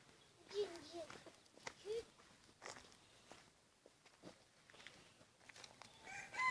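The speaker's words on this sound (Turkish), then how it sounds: "Maşallah horozun büyüklüğüne bakar mısınız arkadaşlar?" Chickens and a large rooster roam a home garden, giving faint, scattered clucks and calls among soft footsteps and quiet voices nearby.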